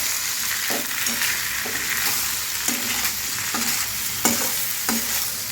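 Onion and potato curry with chilli, coriander-cumin powder and salt being stirred in a pan, a continuous sizzle broken by rhythmic scraping strokes of the spoon roughly every second.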